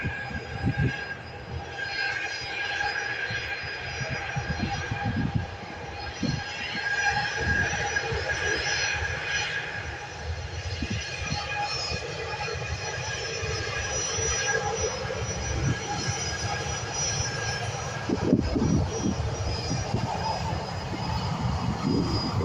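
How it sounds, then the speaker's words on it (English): A Ryanair Boeing 737 taxis at an airport, a steady low engine rumble and whine with a sustained tonal hum, heard from a distance with faint background noise. "we have the Ryanair Boeing 737 on a taxi now as well"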